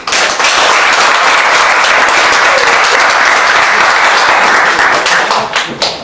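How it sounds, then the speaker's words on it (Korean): Loud, close applause from a gathering of a Busan cooperative group celebrating its new activity space, many hands clapping densely for several seconds before tapering off into a few scattered claps. "자축하는 의미에 박수를 크게 한번 치주시고"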